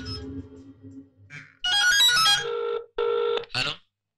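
A telephone rings in a Marathi film scene, a loud electronic ringtone in several bursts with short gaps, following faint background speech.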